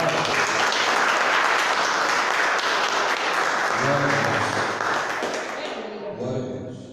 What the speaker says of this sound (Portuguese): Você pode aplaudir a Deus por essa palavra?